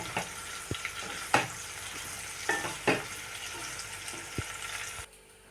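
Bitter gourd pieces with turmeric fry in a pan, a soft sizzle broken by several sharp scraping stirs and clinks, close and quiet, ending abruptly.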